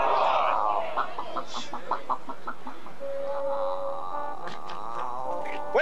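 A chicken clucks in a run of short, evenly spaced calls that fade into a noisy scene with background chatter and scattered clatter.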